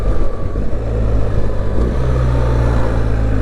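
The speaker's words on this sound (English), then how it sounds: "the downshifts are seamless at this speeds" BMW R1300 GS motorcycle with automated shift assistant, downshifting through the gears at speed: a steady close engine drone with low harmonic bands shifting pitch, under heavy wind rush.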